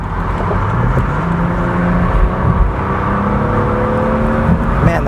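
A BMW 335i convertible accelerates onto a highway. The engine gives a steady, rising hum with whirring road and wind noise heard from inside the car.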